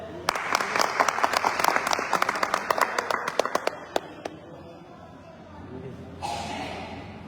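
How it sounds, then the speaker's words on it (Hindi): A crowd claps for a few seconds, sharp hand claps thinning out and fading, followed by a brief murmur of voices. "जोरदार तालियां हो जाए।"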